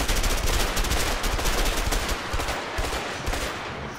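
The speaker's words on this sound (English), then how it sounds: "So you can turn this into an automatic gun if you just spam." Rapid, continuous automatic gunfire from a burst-fire gun fired as fast as the trigger can be pressed in the co-op game A Way Out, loud and close, a dense unbroken rattle that tails off slightly near the end.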